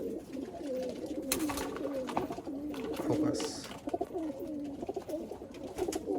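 Punjabi Malwai pigeons coo in soft, rolling repeated phrases close by, while someone talks over them now and then.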